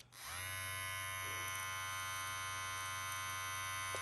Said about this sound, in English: So I'll let you hear the noise of the shaver, and it comes in 2 settings.